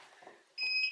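A Bruno stairlift gives a short electronic beep, a steady pure tone lasting about a third of a second after a brief quiet stretch, fairly close and clear.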